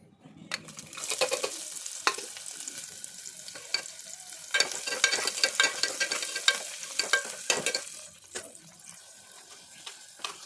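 Onions and curry leaves dropped into hot oil with poppy seeds for a vegetable kurma, a loud crackling sizzle with sputtering bursts and a few knocks of stirring, close and without speech.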